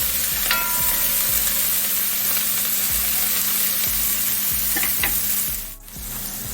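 Garlic sautéing in a pot, a loud continuous sizzle with a few light utensil clinks, briefly dipping near the end, no voices.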